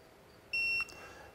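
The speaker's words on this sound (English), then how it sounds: "press and hold the set button until it beeps" A TPMS monitor from a truck tire pressure kit emits a single short, high electronic beep after the set button is held, clear and close over quiet background.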